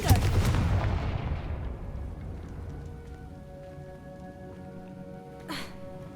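A Confringo blasting spell goes off in the Hogwarts Legacy video game, opening with a loud explosive boom that rolls into a decaying rumble, followed by quieter ambient hum and a brief burst near the end.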